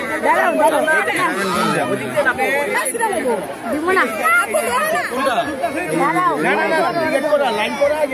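Busy crowd chatter at a park's small children's train ride, many overlapping voices close by and in the background, with steady murmuring talk throughout.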